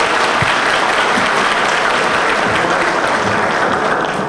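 Audience applause at a PRM political rally in support of the Luis Abinader 2020 presidential campaign, a steady, dense wash of clapping from a large crowd, sustained and even throughout.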